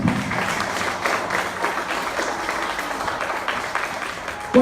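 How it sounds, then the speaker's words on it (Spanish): Dense, steady applause from a church congregation during a sermon fills the space, sustained and even throughout, with no voices standing out. "Denle un fuerte aplauso a mi Padre."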